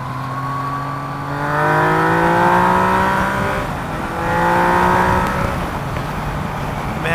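A Yamaha XSR900 motorcycle fitted with an Akrapovič exhaust accelerates hard, its engine note climbing through the gears with a brief dip at a shift before rising again, loud and close throughout.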